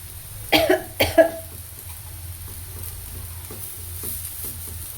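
Raw banana slices shallow-frying in a pan with a quiet, steady sizzle. A few close coughs at the start briefly cover the sizzle.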